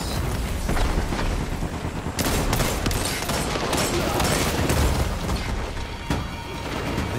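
Gunfire in the video game Rift, dense bursts of rapid shots and booms layered over battle noise, loud and continuous throughout.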